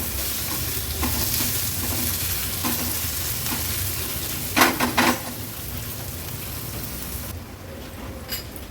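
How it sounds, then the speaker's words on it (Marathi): Chopped onion with crushed ginger and garlic fries in a pan over a low gas flame, with a steady close sizzle and a few louder scraping stirs. "गॅसची फ्लेम लोवर ठेवून कांदा आपल्याला व्यवस्थित शिजवून घ्यायचा आहे"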